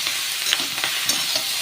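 Amudi fish fries with cumin in a pan, giving a steady close sizzle as it is stirred, with faint scraping touches over the continuous frying hiss.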